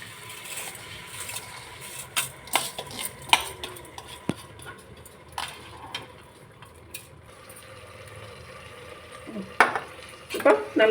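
Raw rice is sautéed in a pan, stirred with a utensil that gives intermittent scraping and clinking strokes against the metal, fairly close and moderately loud, with no talk.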